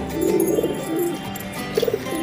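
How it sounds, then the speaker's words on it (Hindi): Wild pigeon cooing close by, a few soft low coos in short phrases with a pause between them, alone over light background noise. "देखिए दोस्तों जंगली कबूतर कहाँ उतर रहा है मेरा"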